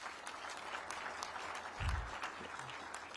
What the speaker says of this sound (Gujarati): બધા માટે એક વખત તાળી થઈ જાય.